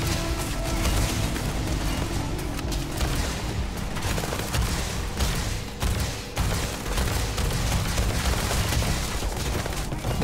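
Dense, continuous gunfire and booming blasts in Starfield, loud and chaotic with no pauses, like a sustained firefight.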